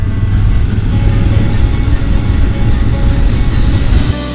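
A motorcycle rides along a rough, almost off-road track in Northern Ontario, its engine droning steadily and loudly up close with rumbling wind and road noise throughout.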